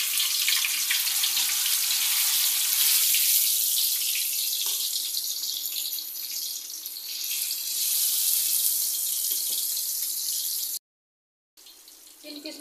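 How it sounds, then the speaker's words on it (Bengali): Pieces of fish fry in oil in a wok with a loud, steady sizzling hiss that eases slightly midway, cuts out briefly near the end, then returns. "তিন পিস মাছ দিয়ে দিয়েছি। এখন মিডিয়াম আছে মাছগুলো ভেজে নিব।"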